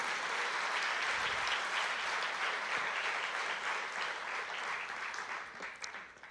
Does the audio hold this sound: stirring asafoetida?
no